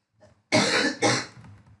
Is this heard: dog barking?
no